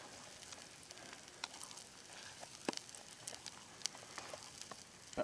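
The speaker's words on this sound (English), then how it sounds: "you're gonna take your bannock bread and just put it right down in there." Bannock bread dough pressed into a hot skillet, giving a steady, soft frying sizzle with scattered small pops and crackles throughout, fairly close and alone without talk.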